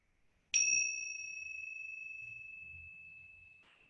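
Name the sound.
meditation bell ringing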